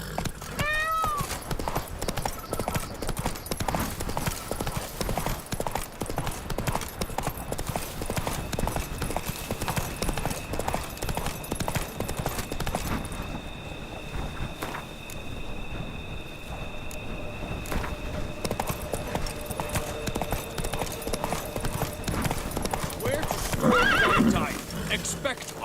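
A horse's hooves clip-clop steadily on the road in The Witcher 3, a continuous rhythmic trot with a whinny near the start and people talking over the hoofbeats.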